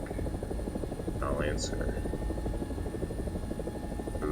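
An AB 205 A-1, an Italian-built UH-1H, flies in a video game with a steady, loud rotor buzz and low engine drone throughout, while a voice speaks briefly over it and small game chirps pop up.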